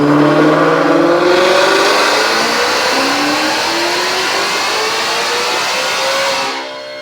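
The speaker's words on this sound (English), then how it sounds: "Speaking of that, check out this dyno pull." A supercharged 2021 Shelby GT500 engine on a dyno revs steadily upward in one long, loud pull with a rising whine, then cuts off abruptly at the end.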